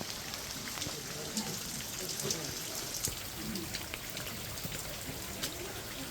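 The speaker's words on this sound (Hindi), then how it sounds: "पूरा बारिश का मौसम है" Monsoon rain falls as a soft, steady hiss with scattered drips on a mountain trek up Brahmagiri near Trimbakeshwar, faint and constant throughout.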